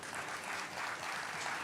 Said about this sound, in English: I like the applause, but I won't hear you